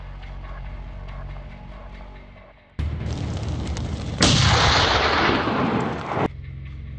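Rifle shot during a Caucasian tur hunt in the Russian mountains, one sudden loud blast with a booming rumble that swells and then cuts off abruptly.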